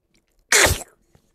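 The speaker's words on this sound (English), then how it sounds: "I can't do anything but sneeze." A single sharp, loud sneeze performed as a Donald Duck impression on a morning radio show, one burst standing alone with near silence around it.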